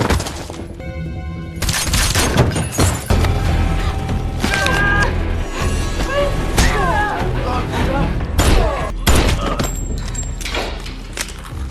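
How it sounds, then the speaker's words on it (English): A movie action scene of men shooting at a car that has crashed into a house: bursts of gunfire, shattering and splintering impacts and heavy thuds under a narrator's voice, dense and loud throughout. "Other men start shooting at the car."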